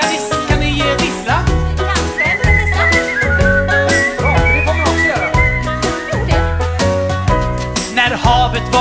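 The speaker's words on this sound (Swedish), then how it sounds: "kan ni vissla?" An audience at a concert whistles along to a lively song, with shrill whistles carried over loud, bouncy music with a strong beat.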